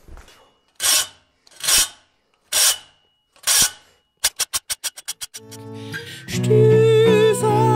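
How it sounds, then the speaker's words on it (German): Four long rasping strokes of a blade on a sharpener, then a quick run of short scrapes, followed by louder ringing metallic clatter. "Das muss ich mal kurz schleifen gehen"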